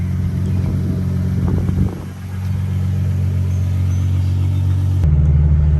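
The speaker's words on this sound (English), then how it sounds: "so far I'm driving it and I'm getting a third gear" A Nissan R35 GTR tuned to over 700 hp drives in third gear, its engine a loud, steady, deep rumble heard up close with no talk, and a brief dip and a shift in tone partway through.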